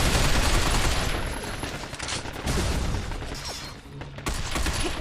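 Rapid bursts of gunfire ring out in a robot firefight from the third-person shooter Binary Domain, loud, dense volleys with brief lulls, some metallic clanks and booms mixed in.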